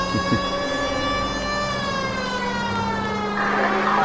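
A police siren wails continuously while driving in L.A. Noire, its steady loud tone sliding slowly over a low car engine hum, with a rise in noise near the end.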